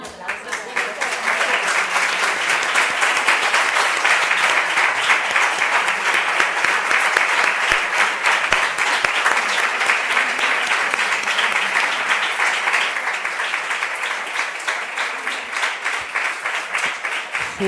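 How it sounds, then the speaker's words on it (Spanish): Audience at a university book presentation applauding, a sustained, dense round of clapping that holds steady for many seconds before easing slightly, loud and close with murmured voices beneath. "Y bueno, un aplauso."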